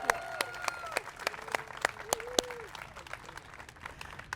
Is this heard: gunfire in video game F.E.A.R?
no